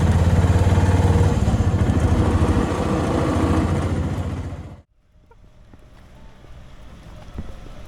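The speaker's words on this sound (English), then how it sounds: "We just jumped in the tuk-tuk, it's way too hot to walk." A tuk-tuk auto rickshaw rides through Jaisalmer, its engine rumbling loudly with wind buffeting the microphone, then dropping abruptly to quieter idle and street noise about halfway through.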